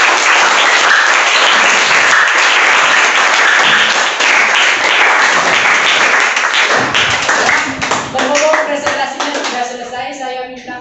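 Students in a classroom burst into loud, dense applause that holds steady for several seconds, then thins into scattered claps as voices rise in speech toward the end.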